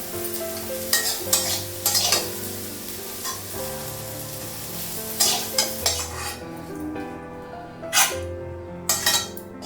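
Yardlong beans fry in a pan, a soft continuous sizzle broken by repeated sharp scrapes and clinks of a spatula stirring against metal, irregular and close, the sizzle thinning toward the end.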